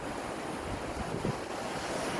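Sea waves wash onto a beach by a caravan campsite on a windy morning, a steady broadband roar of surf with wind noise buffeting the microphone throughout, no voices.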